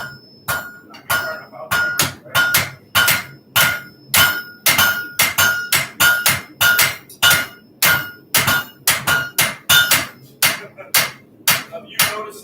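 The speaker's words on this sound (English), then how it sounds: "A heavier hammer will do the work faster" A hammer striking a hot railroad spike on an anvil to forge it into a knife, loud ringing metallic blows repeating in a steady rhythm, sometimes in quick pairs, close up.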